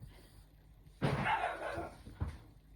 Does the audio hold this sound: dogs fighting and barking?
yes